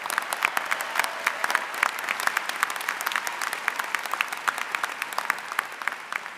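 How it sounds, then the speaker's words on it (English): A large crowd at the Michigan Ross business school commencement applauds student award winners with continuous dense clapping. Individual sharp claps stand out against the steady wash of the crowd throughout. "Big round of applause for all of these student award winners."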